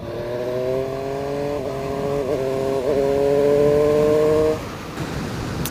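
A Triumph Street Triple 765 RS motorcycle cruises with a steady, droning engine note that rises slightly with throttle before the revs drop off near the end, heard from the rider's position amid wind noise.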